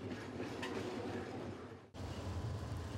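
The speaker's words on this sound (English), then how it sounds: "Several trains arrive each day, and each time the station comes to life." A train rolls into a rural station in the town of Malema, giving a loud, continuous rumble of railcars and wheels with a brief dropout before the noise resumes.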